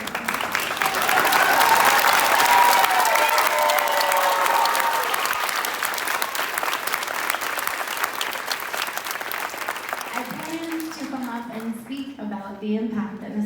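Sustained audience applause for a school band teacher at a spring band concert, loud and steady for about ten seconds, then fading as a voice begins speaking.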